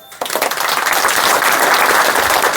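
A village assembly breaks into applause in support, many hands clapping in a dense, sustained burst that starts abruptly and stays loud and even to the end, with no talking.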